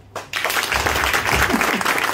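Audience applause at a real estate training camp, a loud, sustained burst of clapping from a crowd that starts abruptly after a brief pause and continues thickly throughout.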